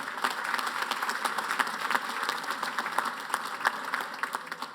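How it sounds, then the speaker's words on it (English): A dinner crowd at the 125th annual Cathedral Club anniversary dinner claps for its officers and members, steady dense applause from many hands filling a banquet hall for several seconds. "we'll begin with a nice round of applause for the officers, directors, and members of this wonderful organization"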